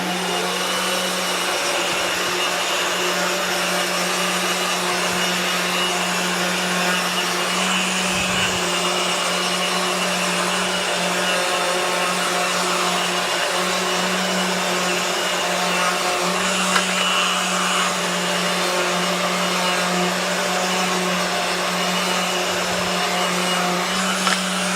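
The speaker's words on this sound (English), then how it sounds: "I'm going to give it a little sanding. This is nice because I've got it hooked up to the Festool" A Festool sander with 220-grit paper works a veneered wooden ornament while hooked to a vacuum dust extractor, giving a steady, loud mechanical whir with a constant hum that runs unbroken for the whole stretch, no voices.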